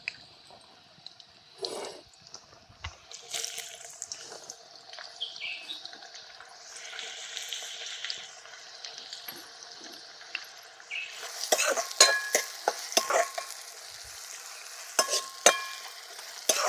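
Chopped onion frying and being stirred in a pan for village-style stuffed brinjal, a steady sizzle with scraping spatula strokes that grow louder and busier toward the end, no talk.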